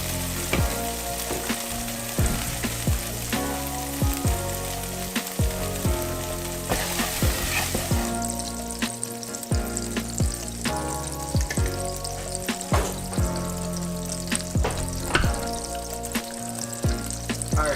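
Vegan JUST Egg scramble frying in a pan gives a loud, close, constant sizzle, punctuated by repeated sharp scrapes and taps of a utensil stirring the mixture throughout.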